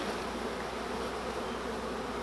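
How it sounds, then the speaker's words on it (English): A dense, steady buzz of many honeybees shaken from a hive frame fills the air, close and constant without pause. "So after you shake, there's going to be some bees that fly away."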